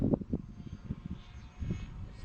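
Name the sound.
radio-controlled model airplane engine in flight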